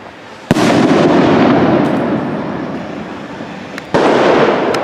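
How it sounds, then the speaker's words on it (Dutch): Spanish avalanche firework rockets of 14 grams going off outdoors, a loud continuous crackling roar of rapid bursts lasting seconds, with sharp bangs at the start and near the end. "Nee, Spaanse lawinepijltje, 14 gram."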